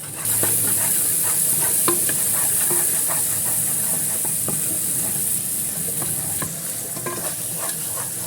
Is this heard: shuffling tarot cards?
no